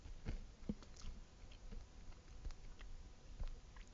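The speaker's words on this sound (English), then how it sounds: "I'm sorry if you hear me chewing." A person chewing food close to the microphone during a tournament stream, faint soft wet crunches and clicks scattered irregularly over a quiet background, no talking.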